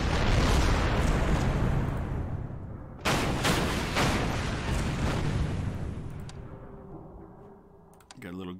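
Warships open fire with their guns in the Coral Sea naval strategy video game, heavy rumbling booms and blasts rolling continuously, with a second salvo midway and a sharp crack near the end.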